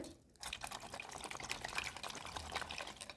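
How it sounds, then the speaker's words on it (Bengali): Giant freshwater prawns are rinsed under running water, with a steady splashing and trickling stream and small drips close by, and no talk. "গলদা চিংড়িগুলোকে আমি ধুয়ে নিচ্ছি সুন্দরভাবে"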